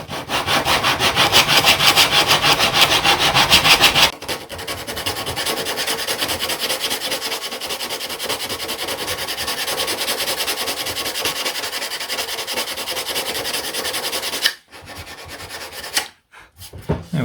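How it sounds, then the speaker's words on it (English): The tailplane of a wooden model aircraft is sanded true. Loud, close, steady rasping strokes of abrasive on wood run almost continuously, with brief pauses near the end. "I'm just going to sand it true."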